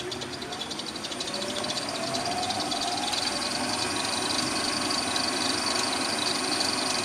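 An electric motor drives a wood lathe at about 1450 rpm, giving a steady, faint hum with a fine whine that holds evenly throughout without pause.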